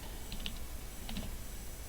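Someone types on a computer keyboard, a few soft key clicks in two small clusters over a steady background hum.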